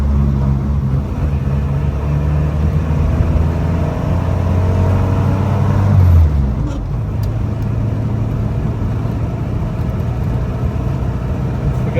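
A 1949 Ford Prefect driving along, its small engine giving a steady low rumble from inside the car, with a brief rise and easing of pitch midway.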